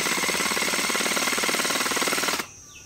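A National oil hammer head striking rapidly, forced to high revs, giving a loud, steady, fast mechanical chatter that runs for over two seconds, then cuts off abruptly to quiet.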